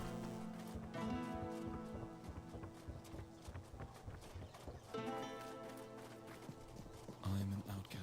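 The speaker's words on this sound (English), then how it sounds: "There's my horsey." Horse hooves clip-clop in a steady walking rhythm in the fantasy video game Tainted Grail, mixed with game music and a fairly close presence throughout.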